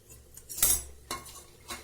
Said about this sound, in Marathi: मी थोडं हे खोबरं भाजून घेऊ आपण